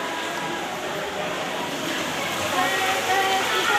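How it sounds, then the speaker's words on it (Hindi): Heavy rain falls near the Naina Mata temple during a fair, making a steady broadband hiss that thickens toward the end, with voices in the background. "बारिश देखो आप लोग इतनी ज़्यादा बारिश"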